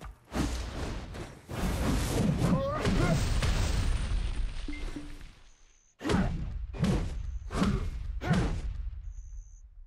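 Repeated heavy impacts and whooshing bursts in Black Desert Online PvP, an axe striking the ground with loud thuds again and again with brief pauses, a voice talking over parts of it.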